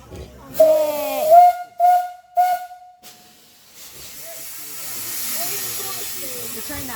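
A steam train sounds several short whistle blasts, then releases a long, loud hiss of steam, with a voice speaking nearby.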